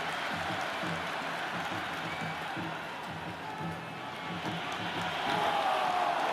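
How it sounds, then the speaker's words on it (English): A big crowd at a cricket stadium during an India vs England one-day international roars and claps in a steady, dense wash of noise that lasts the whole stretch and grows slightly louder near the end. "The crowd is electric right now."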